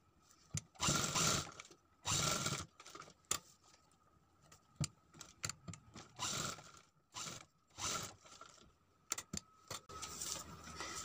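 A sewing machine stitches a sleeve onto a garment in short mechanical bursts, its rattling, clicking runs starting and stopping repeatedly with small ticks and quiet gaps between them.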